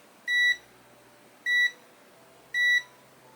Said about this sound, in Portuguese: Eu nem chego, assim, mal e mal encosta, ele já bipa. Bipa consistentemente.